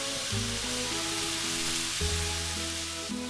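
Ground beef hamburger sizzles and fries steadily in a pan, making a loud, continuous crackle with a low hum running underneath.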